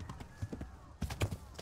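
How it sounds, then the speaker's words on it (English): A horse gallops in the video game Kingdom Come Deliverance, a quick rhythmic clip-clop of hooves at close range with a brief soft pause midway. "So, I don't know how to make this horse gallop."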